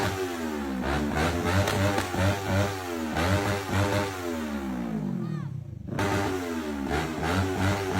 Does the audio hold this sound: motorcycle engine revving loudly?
yes